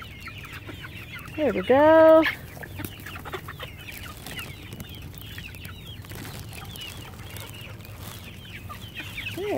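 Speckled Sussex and Dominique chickens give a loud, brief burst of clucking and squawking early on. Softer cackles and farmyard rustling follow in the background, and a person speaks briefly.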